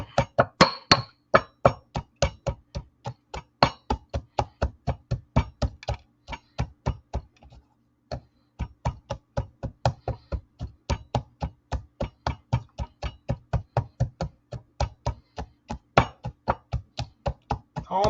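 Ingredients for banana blossom salad are pounded in a mortar and pestle, a loud, close run of sharp thuds in a fast steady rhythm that pauses briefly midway and then carries on, with no talking.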